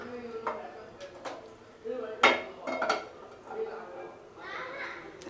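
A pan being set down and handled for street-style egg fried rice, with several sharp metallic clanks and clinks scattered among quieter rattles while a person talks nearby.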